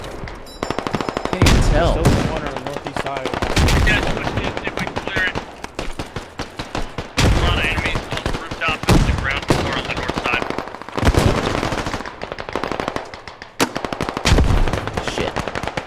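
Automatic AK rifle fire in a simulated battlefield combat game, loud bursts of rapid shots broken by brief pauses, with someone talking over the gunfire.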